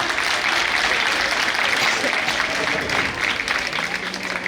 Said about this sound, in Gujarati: તમે રાજી તો તાળી પાડો એનો